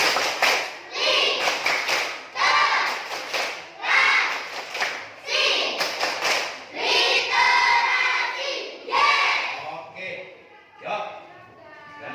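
A class of students claps the literacy clap in a quick patterned rhythm, bursts of claps broken by short pauses, with voices chanting along.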